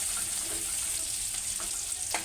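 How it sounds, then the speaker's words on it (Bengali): Cumin, onion and crushed garlic fry in oil for dal, a dense continuous hiss with a few soft crackles, including one near the end. "জিরে দিয়ে দিলাম একটু"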